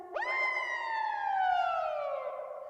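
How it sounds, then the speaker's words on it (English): A synth tone from the Thereminator 2 iPad theremin app, run through a diffuse effect, swoops up sharply and then glides slowly down like a siren. It is one continuous clean, loud note with no talking. "It sounds like a siren"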